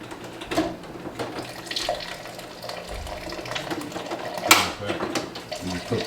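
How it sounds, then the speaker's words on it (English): Cold tap water runs into a container of sea salt for a pickling brine for hot giardiniera, a steady splashing pour with a voice talking over it. "now we got to put some water in"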